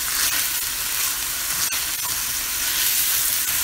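Steady, loud sizzling of grass-fed ground beef frying in a pan, a continuous crackling hiss with occasional pops, no voices.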